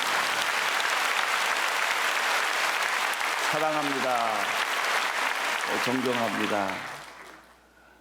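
A church congregation claps in sustained, dense applause to encourage members of a sister church in Japan, loud and steady, while someone speaks over it midway, then the clapping fades away at the end.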